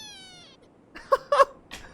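A kitten gives two or three short, high meows close to the microphone after a fading electronic tone, with quiet moments between the calls.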